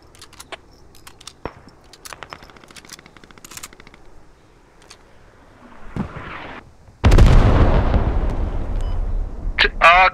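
Mortar shells fire and explode in the military video game Squad: scattered sharp, distant cracks and thumps come first, then a loud, sustained rumbling blast fills the last few seconds, with brief voices.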